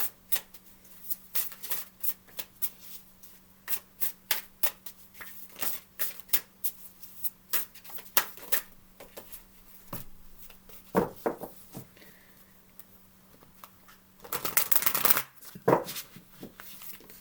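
Tarot cards being shuffled close up, a long run of quick papery riffles and taps in an irregular rhythm, with a denser burst of shuffling near the end and a faint hum underneath.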